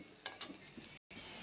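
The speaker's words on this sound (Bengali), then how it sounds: "এভাবে পেঁয়াজগুলো একটু লাল লাল করে ভাজি করে নেব।" Onions fry in a pan for a spicy dried-fish mash, giving a faint, steady sizzle with a couple of light stirring taps across a very short stretch.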